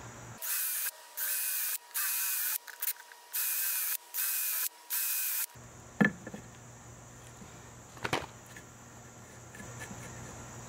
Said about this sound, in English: even drilling these two holes.